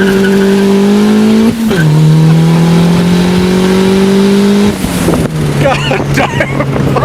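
A turbocharged Honda Civic with a D16Y8 engine, heard from inside the car. The revving is loud and sustained and drops in pitch twice between pulls, with faint voices near the end.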